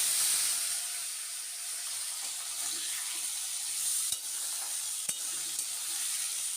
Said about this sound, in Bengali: এখন এটা একটু ভালো করে ভেজে নেব এই মাছ ভাজার তেলটাতে